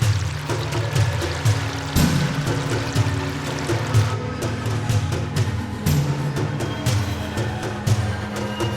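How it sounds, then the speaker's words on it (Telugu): Water is sprayed and splashed steadily across a farm field as a continuous, fairly loud gushing pour with faint bubbling, and no voices over it. "నోటితో పొలమంతా తడిచేలాగా ఆ నీళ్లని చల్లాడు"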